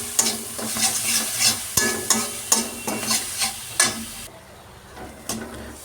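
Spice paste with garam masala fries in a pan while a spoon stirs it, giving rhythmic scraping strokes about every half second over a close, steady sizzle, with the stirring stopping near the end as the frying continues more quietly.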